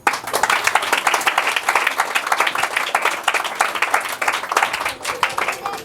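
A church congregation claps together after a prayer, a dense, steady round of applause filling the whole moment with some voices mixed in.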